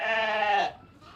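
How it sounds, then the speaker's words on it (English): Sheep and lambs in a large polytunnel on a farm give a single loud, quavering bleat close by, which breaks off abruptly, leaving faint background noise. "Here we are in a gigantic polytunnel at Orrisdale, full of sheep and lambs"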